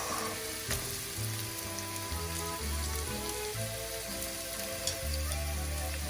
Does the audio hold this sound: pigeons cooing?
no